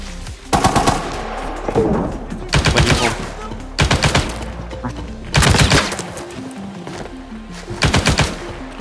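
Loud, close automatic gunfire from an AN94 rifle in the shooter game Arena Breakout. It comes as repeated short bursts separated by brief pauses, with quieter echoing shots between them.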